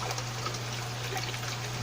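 Water flushing out of a hydroponic DWC chiller system, a steady faint rushing trickle over a constant low electrical hum.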